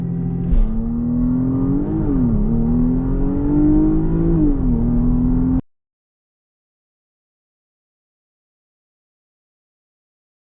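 A Porsche Panamera 4 Executive launches from a standstill with launch control, its engine note rising steadily through gears for about five seconds, loud and close, before cutting to silence.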